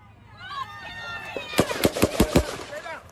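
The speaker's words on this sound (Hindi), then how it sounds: "हमलावर ने ट्रंप के मंच के सामने की एक इमारत की छत से गोलियां चलाईं" Rapid burst of gunshots fired from a rooftop at a Trump rally in Butler, Pennsylvania, five or six sharp cracks in quick succession after a moment of crowd noise and voices.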